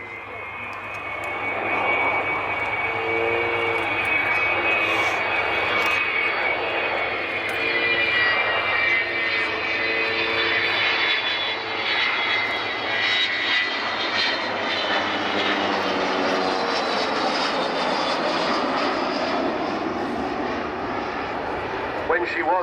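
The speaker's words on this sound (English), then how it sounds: "get a little suspicion of Vulcan's engine slightly opening up there" An Avro Vulcan bomber's jet engines open up with a loud, sustained roar and a whining high tone, a constant powerful rumble lasting throughout.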